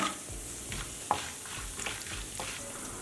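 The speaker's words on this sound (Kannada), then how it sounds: "ಎಣ್ಣೆ ಸ್ವಲ್ಪ ಕಾಯಿಲಿ ಸಾಸಿವೆ ಹಾಕ್ಕೊಳ್ಳೋಣ ಒಂದು ಟೀ ಸ್ಪೂನಷ್ಟು ಕಡಲೆಬೇಳೆ ಸ್ವಲ್ಪ ಗೋಡಂಬಿ ಹಾಕ್ಕೊಳ್ಳೋಣ" Mustard seeds, chana dal and cashews sizzle quietly in hot oil in a pan, with soft stirring scrapes and a small pop over a steady frying hiss.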